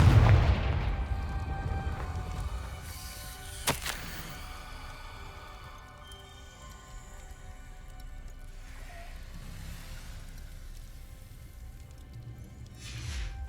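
A Confringo fire spell explodes in the video game Hogwarts Legacy: a loud burst at the start, a sharp crack a few seconds in, then a low rumble and hiss that fades under steady rain-like ambience.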